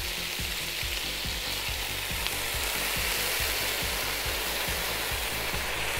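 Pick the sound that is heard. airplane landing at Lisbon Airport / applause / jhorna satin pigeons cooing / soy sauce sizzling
soy sauce sizzling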